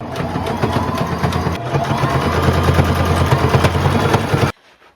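A regular home sewing machine runs a straight stitch on fabric for a patchwork maxi skirt, a loud, close, rapid rhythmic whir that stops abruptly near the end.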